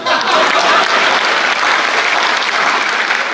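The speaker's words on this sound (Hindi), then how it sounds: "एक बार मेरे भौगोलिक ज्ञान पे तालियां बजी" Audience applause at a Hindi comedy poetry gathering, a Hasya Kavi Sammelan, with dense steady clapping from the crowd that stays loud and unbroken throughout, with no voice on top.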